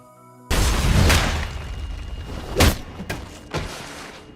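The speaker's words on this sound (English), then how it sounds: "And he was successful, but it exploded in the process." A machine exploding in a Cartoon Network cartoon: a sudden loud burst with a long rumbling tail, followed by a few more heavy booms and thuds.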